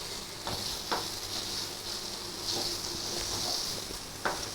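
A milk mixture for milk peda, seasoned with cardamom powder, stirred in a pan over the stove: a soft, continuous hiss with a few faint scrapes of the spoon, quiet and close.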